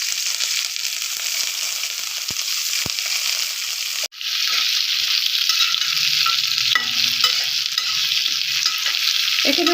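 Curry leaves and tomatoes fry in hot oil for a chutney, giving a loud, steady sizzle with a brief cut midway and faint stirring clinks.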